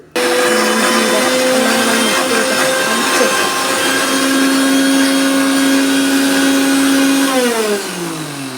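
A mixer grinder runs loud and steady, grinding a spice paste of turmeric, onion, garlic and chilli, its whining motor holding one pitch for several seconds before dropping as it slows near the end.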